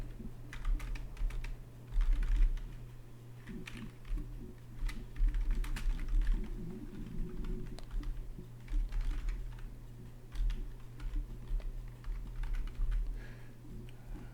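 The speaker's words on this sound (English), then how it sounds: "Oh, typing." Someone types on a computer keyboard with steady, fairly quiet key clicks in irregular bursts over a constant low electrical hum, with no talking.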